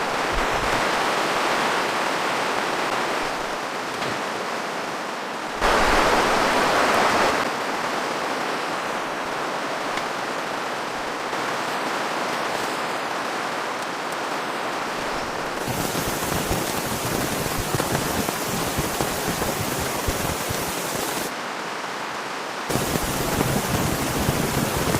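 Steady broadband rain hiss on a tent at night in the wilderness, dense and continuous with a few abrupt shifts in level and texture, no voices.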